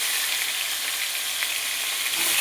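Vegetables and potato frying in a pan while being stirred, a loud, dense, unbroken sizzle heard up close.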